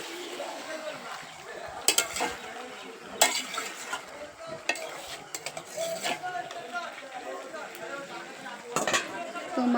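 Meat stirred and fried in oil in a wok over a wood-fired stove, with scraping clinks of the spatula and a steady sizzle, a voice talking over it throughout.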